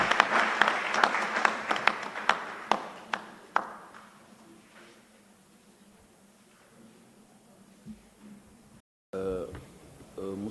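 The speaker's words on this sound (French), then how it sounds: "Sous vos applaudissements, s'il vous plaît." Audience at a university political science panel day claps in a short burst of scattered, fading applause that dies out within a few seconds, followed by quiet room tone and then a voice speaking.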